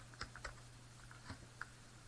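Faint, sparse keystrokes on a computer keyboard while searching SAP transaction codes, a few soft clicks spread across a couple of seconds, with no talking.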